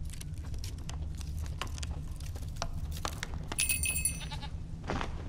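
A goat bleats in The Witcher 3: Wild Hunt video game, one wavering cry near the end over a low ambient hum and scattered soft clicks and taps.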